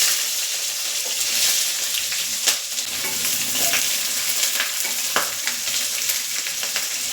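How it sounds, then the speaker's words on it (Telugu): Chopped green chillies and onions frying in hot oil with whole spices for gongura pulao, a steady broad sizzle with occasional stirring scrapes, close and continuous throughout. "పచ్చిమిరపకాయలు బాగా ఫ్రై చేసుకోవాలి"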